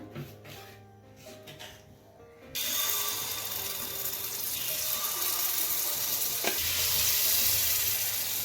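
Pitha rice cakes frying in hot oil for Poush Sankranti, a steady loud sizzle that starts abruptly and keeps crackling close by, with no voices.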